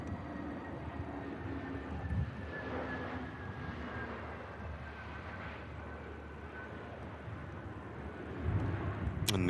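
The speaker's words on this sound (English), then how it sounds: "Ooh, EasyJet A321 Neo next to land. Yeah, arriving in from Paris." An EasyJet A321neo arriving from Paris and landing at Manchester Airport, a distant broad engine roar that holds steady and swells louder toward the end.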